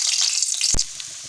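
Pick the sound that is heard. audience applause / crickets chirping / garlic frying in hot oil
garlic frying in hot oil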